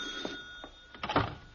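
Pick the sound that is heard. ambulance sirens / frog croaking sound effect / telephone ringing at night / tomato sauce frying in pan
telephone ringing at night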